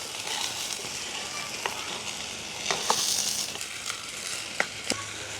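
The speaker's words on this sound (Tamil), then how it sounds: "வெங்காயம் அப்படியே அந்த எண்ணெயில் பதங்கின உடனேயே" Whole small onions frying in oil in a village kitchen, a steady close sizzle broken by scattered crackles and stirring clicks, with no talking.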